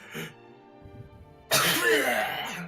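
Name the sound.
voice imitating a sneeze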